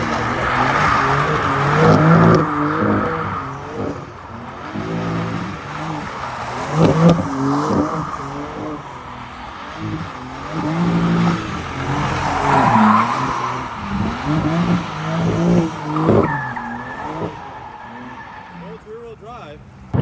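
A BMW M4 Competition G82 in rear-wheel drive does donuts, its engine revving in repeated surges with tire squeal, loud and close, while someone talks over it.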